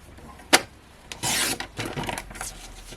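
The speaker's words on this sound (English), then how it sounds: "This is Ink Me cardstock, and I'm going to cut that at 10." Ink Me A4 cardstock being cut on a paper trimmer: a sharp click, then a short scraping slide of the blade along the card, with softer rubbing afterwards, close and clear.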